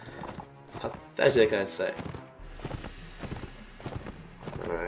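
Horse hooves clip-clopping in the video game Mount and Blade, a rhythmic patter of armored cavalry steps under someone talking over them.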